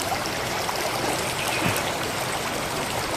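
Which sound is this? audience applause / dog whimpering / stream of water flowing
stream of water flowing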